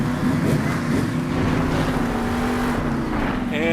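A monster truck engine in the video game Monster Jam Steel Titans 2 keeps running with a steady, loud droning rumble and a sustained low tone throughout.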